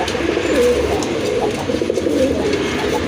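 Domestic pigeons kept in pairs for sale coo steadily and close by, soft low throaty calls layered in a continuous murmur over faint background noise, with no voices.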